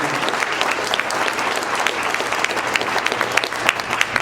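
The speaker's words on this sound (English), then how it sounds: "do another round of applause for all of our speakers this morning" A breakfast-event audience gives a sustained round of applause for the morning's speakers, dense clapping from many hands filling the room evenly for several seconds.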